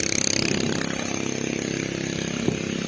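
A steady, buzzing boat engine drones throughout, close and fairly loud, running at constant speed at Pak Phanang, Nakhon Si Thammarat, Thailand, with a brief knock near the end.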